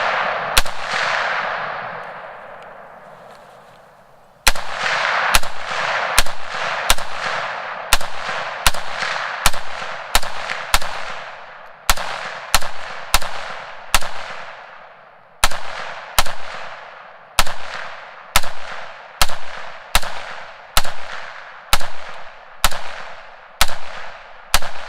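Rifle shots through a cheap eBay muzzle brake crack out loud and close, a long series of sharp single reports spaced a second or so apart, each followed by a brief ringing decay.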